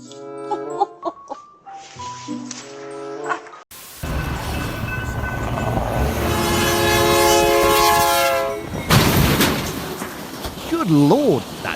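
A train horn blares loudly and holds over rumbling rail noise, then a sharp crashing impact as the train slams into cars, followed by louder tones and a voice speaking near the end.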